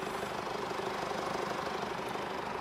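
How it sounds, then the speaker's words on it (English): A Mercedes GLC 220d's 2.0-litre mild-hybrid diesel idles with the hood open, a steady close-up clatter and hum holding an even level throughout with no talking. "the diesel engine is actually more loud if you have a hood open"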